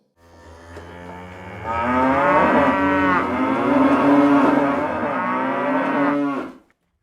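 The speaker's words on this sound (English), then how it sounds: "And now, the sounds of most of the cows in Wales." Cows in Wales moo: one long, drawn-out bellow swells and holds for several seconds, loud and close, over faint background noise before it cuts off.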